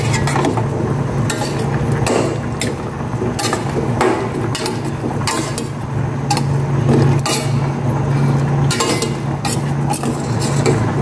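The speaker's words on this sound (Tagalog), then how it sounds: "Pwede ko nang haluin" A pot of vegetables on the boil gets stirred with a utensil, giving repeated clanks and scrapes against the metal over a steady bubbling hiss, near and fairly loud with no voices.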